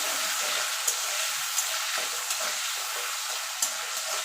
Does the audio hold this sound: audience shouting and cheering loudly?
no